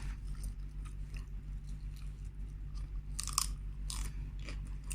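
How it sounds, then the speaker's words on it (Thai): Close, crisp crunching bites and chewing of sausage and meatballs, irregular bursts over a low steady hum, with no talking. "ฟันหน้าเคี้ยวแล้วอยู่จ้ะ"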